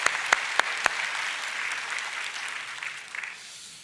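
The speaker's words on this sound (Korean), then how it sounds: "같이 박수로 한번 환영하겠습니다" Applause in a Korean church service welcoming visiting missionaries, opening with a few sharp claps and settling into a steady patter that fades toward the end.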